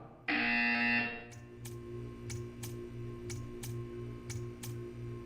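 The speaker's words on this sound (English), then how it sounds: "You will hear a buzzer." A loud, steady electronic buzzer drones for about a second, followed by a series of sharp, evenly spaced clicks over a low background hum.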